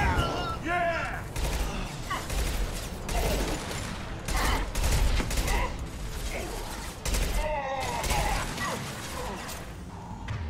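Gunfire and mechanical clanks in Mass Effect 2 as an impact gun is fired at mechs, a dense ongoing barrage of shots and whirring machinery with speech over it.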